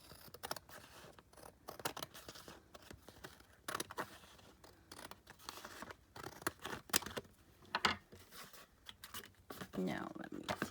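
Scissors snipping paper Pokémon scraps for a paper-folding craft, a series of quiet, irregular cuts and rustles close by.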